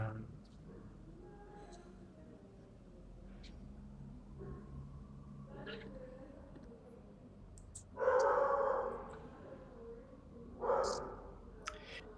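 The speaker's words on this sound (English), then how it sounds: "We also still hear the dog." A dog barks in the background during an online call, two loud bursts late on after quieter yelps, with people talking at the start.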